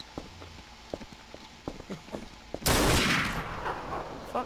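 Scattered light taps and thuds in a Dark RP game, then a loud sudden burst of gunfire that rings out and decays over nearly two seconds.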